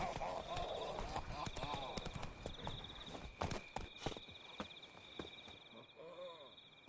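Horse hooves clip-clopping at a steady walking rhythm while riding in The Witcher 3, fairly quiet under a voice and background music.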